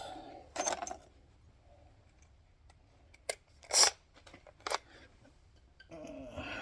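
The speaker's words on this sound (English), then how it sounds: "Sometimes that simple solution is to just cut a hole." Window material on a Jeep Grand Wagoneer is cut to make a hole, heard as a few separate sharp snipping or cutting clicks spaced apart in an otherwise quiet setting, with one stronger cluster partway through.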